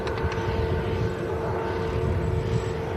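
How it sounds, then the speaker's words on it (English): Ryanair airliner taxiing out from Terminal 3 at an airport, a steady distant jet engine whine and rumble with a sustained tonal hum, alone without talk. "See Ryanair taxiing out as well to out of Terminal 3, heading over to south side."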